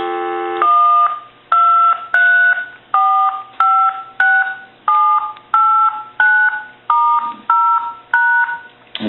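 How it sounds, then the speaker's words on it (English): DTMF keypad tones from a VTech 2431 cordless phone in hands-free mode, a steady series of about thirteen loud, evenly spaced dual-tone beeps, each lasting about half a second with short gaps. "We're going to dial our numbers."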